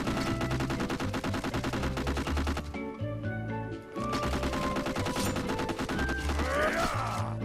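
A giant cannon in modded Skyrim fires in rapid sustained bursts, loud close booms and clattering shots over a brief lull, then resumes heavy gunfire layered with game music.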